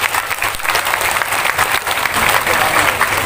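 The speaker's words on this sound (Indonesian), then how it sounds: "Tepuk tangan untuk kita semuanya." Loud, lively applause from a crowd at an evening religious gathering in Tulungagung, with brisk clapping that rises and falls in small waves and scattered voices mixed in.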